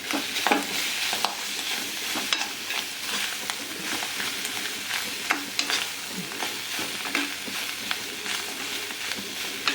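Clam meat frying in coconut oil with curry leaves gives a steady, close sizzle throughout, with frequent scraping stir strokes of a spatula in the pan and no talking.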